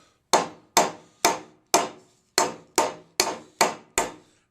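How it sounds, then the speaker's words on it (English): Nine sharp, evenly spaced hammer strikes on metal ring out in a steady rhythm as a plug on a Uni-Plow pump is knocked loose, each blow decaying quickly, close and alone. "Let me get a little bit bigger hammer."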